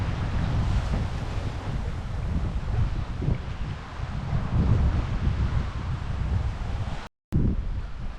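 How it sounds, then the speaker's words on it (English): Broad rushing wind and wave wash heard aboard a sailboat running downwind, a steady loud roar with low surging swells throughout and a brief dropout near the end. "So we've got these gorgeous waves. In the background there, these gorgeous waves."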